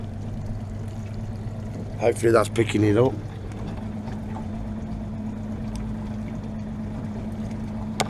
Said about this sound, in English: And that is a confused sea